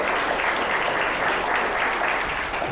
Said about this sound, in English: Yeah, you can clap for that too.